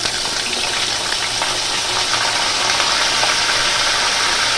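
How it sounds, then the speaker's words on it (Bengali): Paneer fries in a hot pan, giving a loud, dense and continuous sizzle with no pauses and no voices over it. "প্রথমেই আমি এটাকে ভেজে নিচ্ছি পনিরটাকে"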